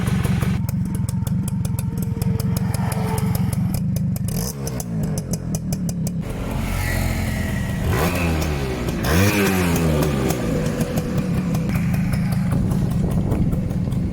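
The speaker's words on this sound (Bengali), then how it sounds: "ফাইনালি আমরা বাইকটি স্টার্ট দিয়ে চালালাম।" A freshly assembled TVS Suzuki Samurai motorcycle engine runs loud and close, idling steadily with a few quick throttle revs partway through and no voices.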